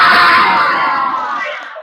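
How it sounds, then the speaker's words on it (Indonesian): Group of children in a classroom activity shouting together in one loud sustained yell after taking a breath, fading toward the end. "Ambil napas, keluarannya sambil teriak."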